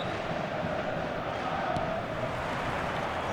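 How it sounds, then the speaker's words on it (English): A dense, roaring wall of crowd noise fills a football stadium on a clear evening before a big game, steady and loud throughout with no distinct chant rhythm standing out. "This place is living up to its reputation as one of the noisiest corners of the footballing world."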